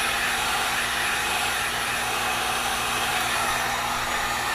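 Heat gun blowing hot air onto epoxy coating an ESC circuit board, a loud, steady, close roar of fan and rushing air holding constant throughout with no talk.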